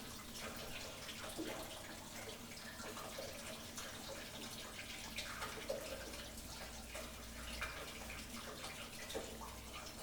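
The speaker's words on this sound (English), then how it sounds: "we can open the valve, let a small amount of liquid out" Liquid running out through the opened drain valve of a fully powered drum tipper with a weigh scale, a steady, continuous pour that goes on without a break.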